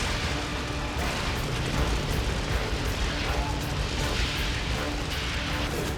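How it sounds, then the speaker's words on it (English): A leaking gas line erupts into fire with a sustained, dense roaring rush of flame and blast noise that stays loud and broadband for several seconds, heard at close range with no clear separate impacts. "the gas erupts in a fiery explosion, turning night to day"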